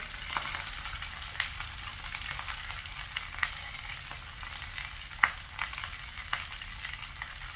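Vegetables fry in a pan with a steady, crackling sizzle, with a few sharper pops and light stirring clicks scattered through; oyster sauce has been added. No voices.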